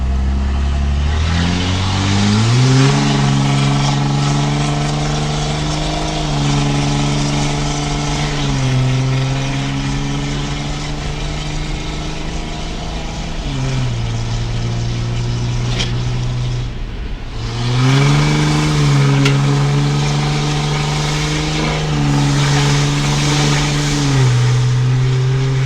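A 2005 Cummins diesel truck with a 5-inch turbo-back straight pipe revs loudly and close, its deep exhaust drone climbing and falling through several throttle blips, dipping briefly to idle near the middle before rising again.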